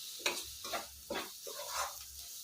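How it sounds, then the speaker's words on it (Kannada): Capsicum curd gravy being stirred in a pan gives a faint, soft scraping in a steady rhythm of about five strokes over a low sizzle, with no talking. "ಈಗ ಇದನ್ನೆಲ್ಲ ಮಿಕ್ಸ್ ಮಾಡ್ಕೊಳ್ಳೋಣ ಚೆನ್ನಾಗಿ."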